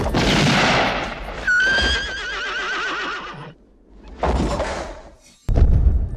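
Horses in a film scene give a long, loud, wavering whinny over a dense wash of noise, followed by a shorter rough burst and a sharp thump at the end.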